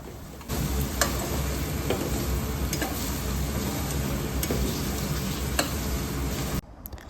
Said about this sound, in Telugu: సో ఇప్పుడు బాగా మిక్స్ చేసుకుంటున్నాం ఇవి